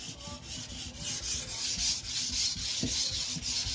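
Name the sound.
Victorinox knife being sharpened on a stone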